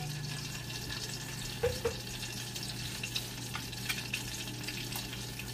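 Butter melting in a heated pan as the base for goat caldereta, a low steady sizzle with a hum underneath, broken by a couple of small pops and light scrapes, close by with no talking.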